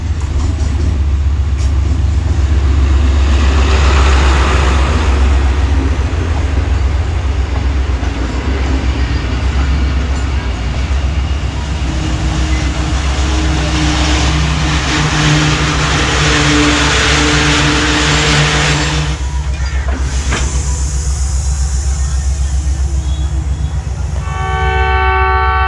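The Awam Express passenger train, led by ZC30 diesel locomotive 6310, approaches Pano Aqil Cantt railway station in Pakistan with a loud, close, continuous engine rumble and wheel noise, and a horn sounding near the end.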